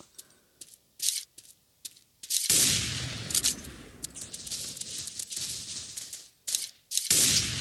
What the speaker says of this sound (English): This shooting though.